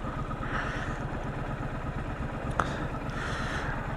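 Triumph Street Scrambler 2017 motorcycle engine while riding, a steady mid-pitched pulsing drone with wind noise, continuous and close, a brief click partway through.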